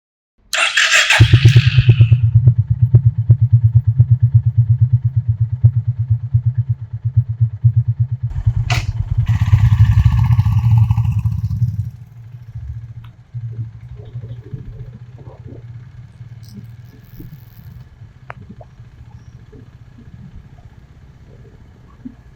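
A Honda CB350RS motorcycle starts with a loud, steady low thump at idle for about ten seconds, nearby, then the engine note drops to a quieter idle with light clatter.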